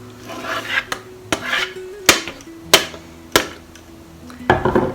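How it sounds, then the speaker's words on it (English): Apples are rasped on a kitchen grater in repeated scraping strokes with sharp clacks mixed in. The sound is close and rhythmic, and no one speaks. "Now I'm gonna grate my apples."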